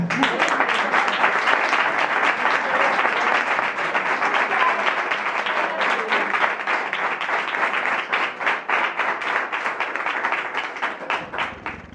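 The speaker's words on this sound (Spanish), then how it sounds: "un caluroso aplauso para que ella le entre fuerza para empezar" Warm, sustained applause from a conference audience welcoming a speaker, dense and loud at first, then thinning into more distinct individual claps toward the end.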